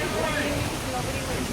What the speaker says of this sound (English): The waterfall on my left plays a huge role in that effort.